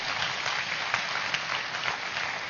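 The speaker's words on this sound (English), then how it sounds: "A big clap to each one of you." An audience at a live youth festival applauding, a dense, steady wash of many hands clapping that holds at an even level throughout.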